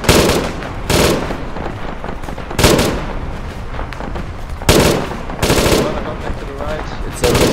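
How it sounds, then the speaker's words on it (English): Machine-gun fire in a video game, with long automatic bursts and a few heavier blasts repeating in loud, dense volleys, close up over a constant battle din. "It's a machine gun."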